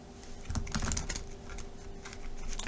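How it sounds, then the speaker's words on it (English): Quick, crisp rustling clicks of tarot cards being shuffled, close by and fairly busy, with a faint steady hum in the background and no talking. "Let's give one more shuffle."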